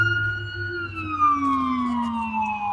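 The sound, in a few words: ambulance siren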